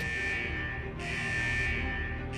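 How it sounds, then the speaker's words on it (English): Central vault alarm in the video game Wuthering Waves, a continuous loud electronic buzzing drone with a steady high tone, sounding alone without talk. "Is that the central alarm of the vault?"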